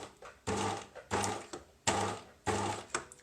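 Sewing machine stitching a zip onto a bicycle frame bag, four short bursts of rapid mechanical stitching separated by brief pauses, close and fairly quiet.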